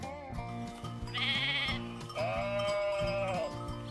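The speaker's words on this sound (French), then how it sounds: "C'étaient des moutons" Sheep bleat loudly several times in succession over a soft musical backing, each call wavering and drawn out.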